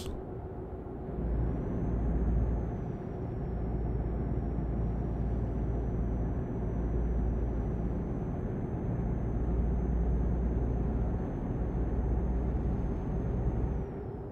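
A DAF truck in Euro Truck Simulator 2 accelerates with a steady low engine drone and a rising then held high whine, loud and continuous with no talking.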